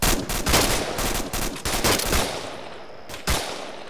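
Rifle fire in a military simulation game: repeated sharp shots in quick pairs and bursts, loud and close, with a few more separate reports toward the end.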